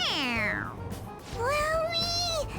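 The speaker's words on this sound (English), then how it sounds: "It meows when you press on its head." Two clear, high electronic meows sound in quick succession from a stuffed toy cat in the video game Persona 5 Royal, each triggered by pressing its head, close and distinct over a faint low hum.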